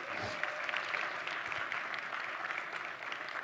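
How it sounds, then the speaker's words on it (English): An audience at a business presentation networking session gives a continuous wash of clapping, fairly faint and distant, steady throughout with no clear individual claps. "Give them a big round of applause"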